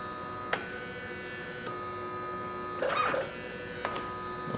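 A MakiBox A6 3D printer runs close by with a steady whine and tonal stepper-motor hum, broken by occasional clicks and a brief louder buzzing movement midway.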